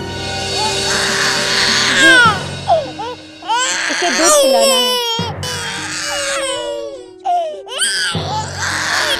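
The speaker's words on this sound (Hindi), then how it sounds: "मुझे बच्चों के रोने की आवाज बिल्कुल पसंद नहीं।" A small infant cries loudly and close by in a home, wailing in long sobbing bursts with short breaks, while an adult voice talks over it.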